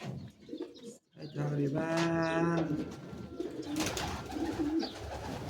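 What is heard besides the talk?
pigeons being released and cooing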